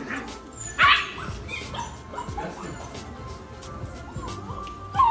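A small dog gives a couple of sharp, high yips, one near the start and one at the end, among quiet rustling and shuffling.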